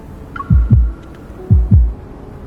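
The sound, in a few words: heartbeat sound effect in silence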